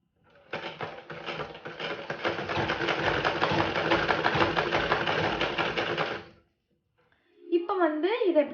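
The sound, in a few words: sewing machine stitching a garment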